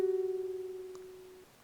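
Ukulele pull-off sounding two notes from a single strum: a clear plucked tone rings, shifts briefly to a second note, then decays and cuts off, close and alone.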